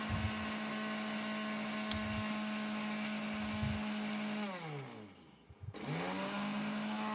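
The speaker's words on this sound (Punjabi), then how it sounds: "ਹੁਣ ਆਪਾਂ 3 ਮਿੰਟ ਲਗਾਤਾਰ ਮਿਕਸੀ ਨੂੰ ਚਲਾਉਂਦੇ ਜਾਵਾਂਗੇ" A mixer grinder grinds red chillies with a steady, loud motor whine. Near the end it winds down, pauses briefly and then spins back up to full speed.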